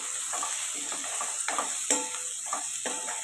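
Onion pieces sauté with turmeric in a pan, a constant close sizzle broken by repeated scraping stirs and a metallic clink from a spoon against the pan.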